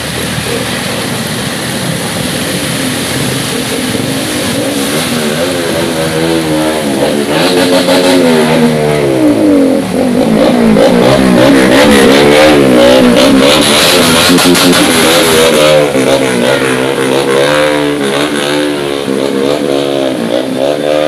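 Motorcycle engines revving loudly and steadily through heavy rain on a flooded street at night, with rising and falling engine tones layered over a constant wash of rain noise, no talk.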